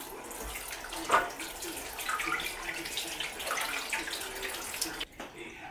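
Butternut squash is rinsed under a running kitchen tap, a continuous splashing water stream with small spatters, moderately quiet, cutting off near the end.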